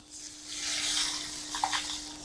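Water is poured into a pan of cooking mango jam, a soft hissing splash lasting a couple of seconds, faint and close, with a slight bubbling near the end.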